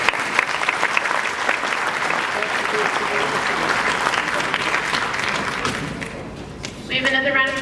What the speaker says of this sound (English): We have another round of applause for Mr.